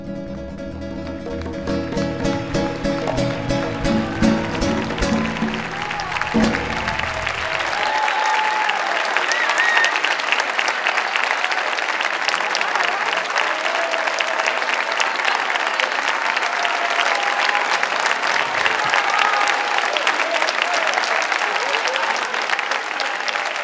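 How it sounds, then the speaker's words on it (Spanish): Loud, sustained audience applause breaks out as a band's live music ends at a performance on La Palma, with clapping and crowd noise continuing steadily to the end. "No quieren parar de aplaudir."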